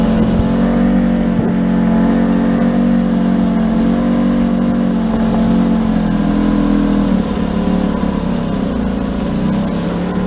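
Outboard engine on a small aluminium tinny putting along at low, steady revs near Boigu, a loud continuous drone close by with no talk.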